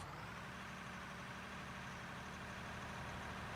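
A truck engine idles in the heavy-equipment mining game Out of Ore, giving a steady, dense low rumble that holds without change for the whole stretch, with no talk over it.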